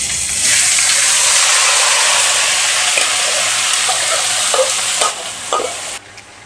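Chicken pieces for a Goalondo steamer chicken curry sizzle and crackle loudly in hot oil while being stirred, a steady broad hiss with scraping knocks that fades toward the end.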